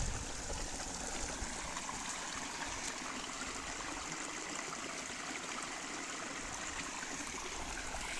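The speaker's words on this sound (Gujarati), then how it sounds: "બે મોટરનું પાણી આવે" Irrigation water from a motor pump rushing along a channel on a chickpea farm, a constant dense, loud flow with no pauses.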